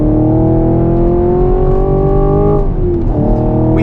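A 2023 Chevrolet Camaro SS 1LE V8 on Goodyear Supercar 3 tires drones loudly and steadily from the cabin on a race track, its engine note rising gradually, then dipping briefly as the driver lifts and climbing again.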